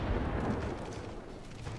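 Heavy ship guns fire in the naval video game World of Warships, heard as a dense, continuous low rumble and roar that holds steady without distinct separate shots.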